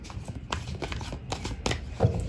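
A deck of tarot cards being shuffled by hand: steady, close riffling and flicking throughout, with a slightly louder card slap near the end.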